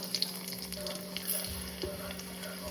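Onions frying with ginger garlic paste in a pan for mutton biryani give a steady, close sizzle with soft crackles and faint stirring scrapes throughout.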